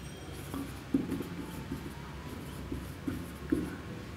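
Notes are written on a board during a classroom lesson, with soft scratchy strokes and a few sharper taps as the writing tool meets the surface, heard alone without talking.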